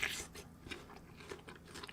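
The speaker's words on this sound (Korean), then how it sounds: "좀 부드럽게 아삭거린다고 해야 되나?" Crisp bites into a Yeoju Korean melon (chamoe) during an eating session, a sharp crunch at the start followed by softer, moist chewing crunches, close and fairly quiet with no talking.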